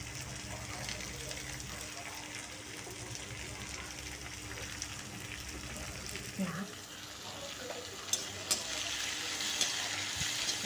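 Plenty of chopped onions sauté in a pan for ragi adai, giving a soft, continuous sizzle with occasional light clicks of stirring. It is fairly faint and close.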